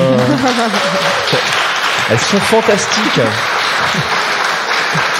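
Applause from an audience, steady broadband clatter throughout, with a person speaking over it near the start.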